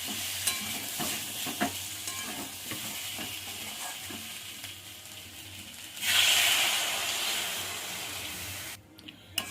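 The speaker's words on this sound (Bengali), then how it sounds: "এবার জল দিয়ে দেবো।" Water poured into spiced masala frying in a pan for a drumstick and potato curry: steady stirring and sizzle, then a sudden louder hiss and steam burst near the end as the water hits the hot pan.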